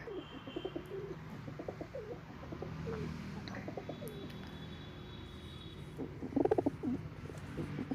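White Malwai pigeons coo in low, repeated murmurs, a steady soft chorus with a brief louder flurry of calls near the end and faint chirps mixed in.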